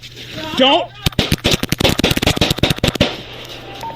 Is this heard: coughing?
no